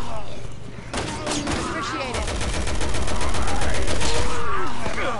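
Rapid bursts of gunfire in the video game Resident Evil, loud and continuous with dense overlapping shots building toward the end, while a voice talks over the shooting.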